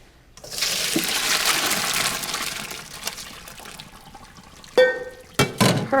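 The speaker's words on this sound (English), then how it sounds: "take a cup and just take out some of the pasta water" Water from a pot of cooking pasta is scooped out with a cup in a kitchen, a sustained watery rush followed by a few sharp splashes and clinks near the end.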